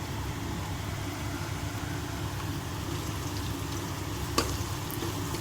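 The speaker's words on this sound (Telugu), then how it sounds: "ఇప్పుడు అల్లం వెల్లుల్లి పేస్ట్ కూడా వేసేసుకుందాము." Ginger garlic paste frying with lightly golden onions in a pan for egg fried rice, a steady low sizzle throughout with one sharp clink near the end.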